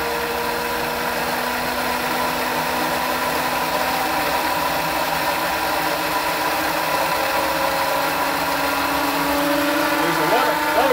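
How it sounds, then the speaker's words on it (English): A small hydro turbine spun by big and small water jets gives a steady, loud mechanical whine with a humming drone, running continuously and swelling slightly near the end. "And then I'll turn on the small jet."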